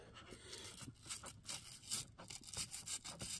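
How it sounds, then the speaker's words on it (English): Paint being scrubbed off Atlas RS3 model locomotive shells, a close, fairly quiet run of rhythmic rubbing brush strokes with no talk. "But we'll keep scrubbing"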